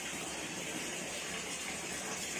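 Steady gushing water from a pump in a home bathroom where clothes are being washed, a continuous broadband wash with no talk.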